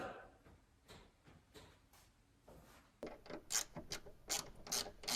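A ratchet wrench cranks down a bolt while swapping a 3800 V6 engine into a Pontiac Fiero, giving a series of quick, close mechanical clicking bursts that grow louder and denser in the second half, with no talk.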